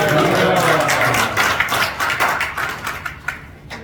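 A church congregation at a Sunday morning men's service claps to welcome a pastor, a burst of close, dense clapping that thins into scattered claps as it fades out.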